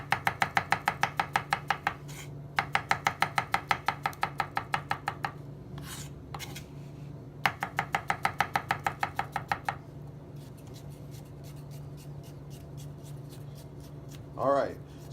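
A very sharp knife chops cucumber on a cutting board in fast, even bursts of rapid taps, pausing between runs, with a low voice murmuring faintly underneath.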